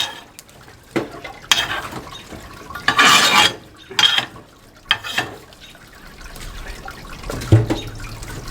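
A long-handled spatula scraping and sliding across the floor of a wood-fired pizza oven running near 750–800 degrees, giving several separate scrapes and clanks, with roaring fire noise between them.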